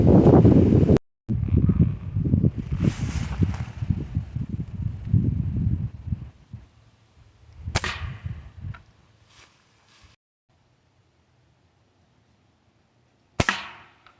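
Air rifle firing pellets at a target about 12 yards off, a sharp crack over rustling outdoor handling noise early on, then two more short snapping reports spaced apart amid near silence.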